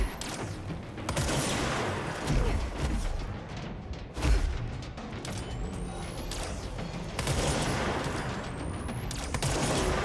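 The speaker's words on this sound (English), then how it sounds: "A lot of grenades going on." Grenade blasts and rapid gunfire from the video game Control, dense and continuous, with sharp booms near the two- and four-second marks over a steady roar of combat.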